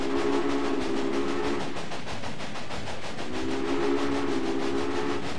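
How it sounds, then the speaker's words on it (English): In the Railway Empire video game, a train rumbles steadily while its whistle sounds twice in long, sustained blasts separated by a pause of over a second. "Just keep turning on the whistle."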